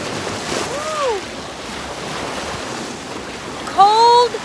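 Waves wash steadily at a waterfront on a cold October day, a continuous broadband surf hiss with wind buffeting the microphone; short whistle-like tones rise and fall twice over the water noise.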